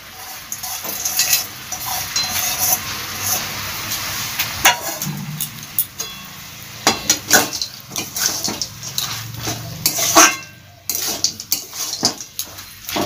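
A metal spoon scrapes and clanks repeatedly against a pan while stirring cooked bottle gourd and spinach mixed with crushed fried bori, with irregular close knocks and wet, soft squelching between them.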